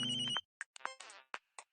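A mobile phone ringtone playing a short electronic melody, a sustained tone first and then a string of separate chiming notes, clear and fairly quiet with gaps between them.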